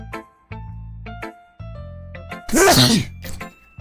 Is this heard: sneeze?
yes